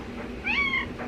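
A single clear meow from an indoor cat, close and moderately loud, rising then falling over about half a second against quiet room background.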